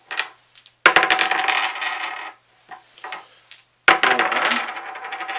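Heavily weighted dice known as dead setters tumble and clatter across a table in two sharp bursts, each a rapid rattle of clicks that settles quickly, with quiet gaps between.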